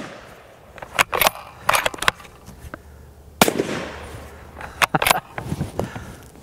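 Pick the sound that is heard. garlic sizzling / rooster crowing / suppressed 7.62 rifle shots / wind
suppressed 7.62 rifle shots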